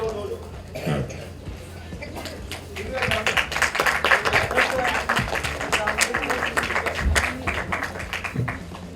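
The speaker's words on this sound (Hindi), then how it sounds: "हाँ तालियां बज रही हैं।" An audience applauds at a 2016 Hindi film trailer launch event, a dense patter of clapping that swells after a couple of seconds and carries on steadily, with voices talking over it.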